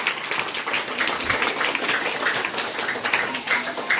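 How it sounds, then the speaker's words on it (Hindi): Audience clapping at a spiritual discourse gathering, a steady patter of applause that holds evenly throughout at moderate distance. "बजाओ ना तालियां यार"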